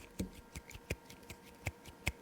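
An ONO metal roller rubbed forcefully against a surface, a very faint series of sharp clicks and ticks spaced irregularly, close and quiet with no talking.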